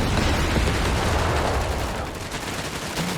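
An MG42 machine gun fires in the video game Company of Heroes 3, a dense rattling burst that goes on without a break under battle noise, with no voices.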